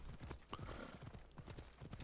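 Horse hooves clop in a steady, rapid galloping rhythm in Red Dead Redemption, fairly close and continuous throughout, with a faint whinny-like tone mixed in and no talking.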